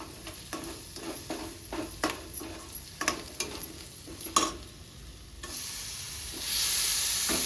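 A large chopped tomato is stirred into a spoonful of hot oil with spices in a pan, with a series of distinct spoon scrapes and clinks, then a swelling, loud, continuous sizzle near the end.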